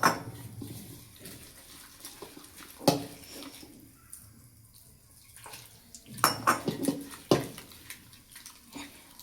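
Potato bhaji batter gets mixed by hand in a bowl, with scattered clinks and knocks of utensil against the bowl, wet sloshing in bursts, and short gaps of near quiet between strokes.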